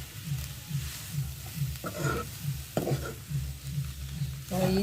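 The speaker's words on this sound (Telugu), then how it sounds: "అలాగా ఇప్పుడు రైస్ ఇలా కలుపుకోవాలి." Cooked rice being mixed in a pan for carrot pulihora, with steady scraping stir strokes in a regular rhythm over a soft sizzle, close and moderately loud, a few sharper clinks of the spoon.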